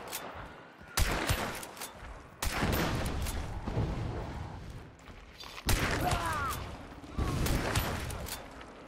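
Gunfire in the Hunt: Showdown video game, loud sharp shots and booming blasts in several bursts, with a rattling fusillade and echoing reports spread across the clip and faint voices underneath.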